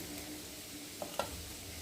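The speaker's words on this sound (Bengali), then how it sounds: "আলুগুলোকে ফার্স্টে ভেজে নিচ্ছি" Potatoes cut into very small pieces fry in a pan, a steady soft sizzle running throughout with two brief stirring clicks near the middle.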